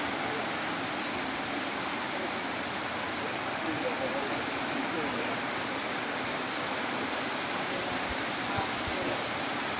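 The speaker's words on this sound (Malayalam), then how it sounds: "വെള്ളത്തിൻ്റെ സൗണ്ട് നല്ല ശബ്ദമുണ്ട്, വളരെയധികം ഭംഗിയുള്ള വെള്ളച്ചാട്ടമാണ്." Waterfall in a forest near Nilambur, a dense, steady roar of falling water filling the scene evenly from start to finish, loud and unbroken, with no other sounds standing out.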